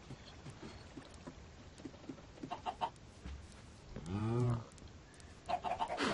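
A Minecraft chicken gives a short, fairly quiet cluck over a steady ambient game background with soft clicks.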